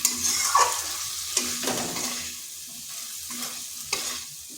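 Papaya curry sizzles in oil in a kadai, close and loud, while a spatula scrapes and stirs in repeated strokes with clinks against the pan.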